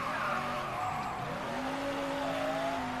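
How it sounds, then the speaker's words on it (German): In the video game Mafia 3, a car brakes hard and its tires skid, with a loud, sustained squeal that bends in pitch and then holds steady for several seconds over engine rumble. "Ah, voll Bremsung."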